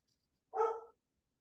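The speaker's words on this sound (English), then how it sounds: "You guys hear Larry back there barking?" A dog in a home, off in the background, lets out one short, sharp bark against near silence.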